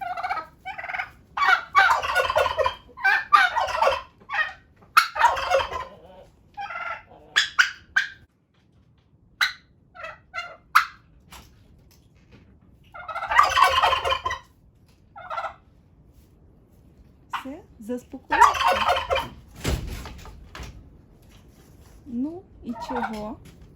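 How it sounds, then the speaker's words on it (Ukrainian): Turkeys gobble in loud, rattling bursts inside a greenhouse, separated by pauses, several calls spread over the stretch with quieter shuffling between them. "В теплиці індики сидять"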